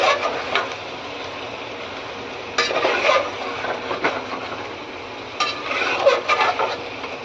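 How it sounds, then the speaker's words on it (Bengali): Chicken with black pepper powder being stirred in a pan: soft scraping and clinking of a utensil against the pan over a steady sizzle, with a few louder strokes, and no talking. "চিকেনটা একটু ভালো করে নেড়ে নেব।"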